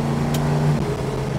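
A 1969 Plymouth GTX engine hums under load while driving, its steady tone briefly dropping in pitch as a gear change goes through, close and fairly loud.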